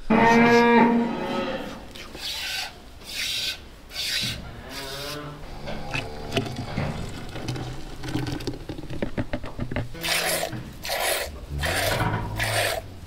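Cattle low on a farm at spring turnout onto grassland, several drawn-out moos rising and falling in series, fairly close, mixed with rustling, rasping handling noises and brief movement sounds.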